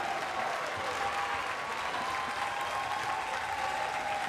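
Stadium crowd at a Big Ten women's soccer match between Maryland and Michigan pounding their feet, a dense, steady roar of rumbling stamping and cheering that holds level and loud throughout with no clear talk.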